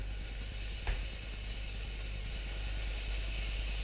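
Steaks sear in a hot induction pan, giving a steady, loud broadband sizzle that holds evenly throughout, with one brief sharp spike near the start.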